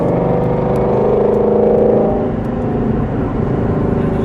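A 2017 Ford Mustang Shelby GT350R in sport mode, its engine and exhaust giving a loud, steady rumble that swells briefly as the revs rise and then settles back to a deep idle-like drone, close to the microphone.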